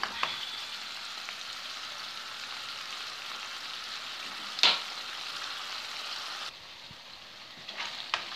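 Tomato sauce made with about four spoonfuls of tomatoes simmers and sizzles steadily in a pan for pasta with tuna, a constant soft bubbling hiss with one brief sharp clink midway.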